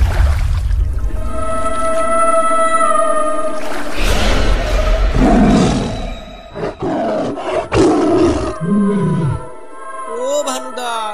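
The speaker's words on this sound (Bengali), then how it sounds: "ও তো বাঘ।" A tiger near a small boat on a canal gives loud, close, rumbling roars that swell and fall over several seconds, with a few sharp knocks and voices mixed in.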